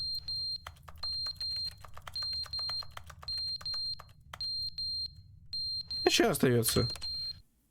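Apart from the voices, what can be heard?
alarm ringing in video game The Stanley Parable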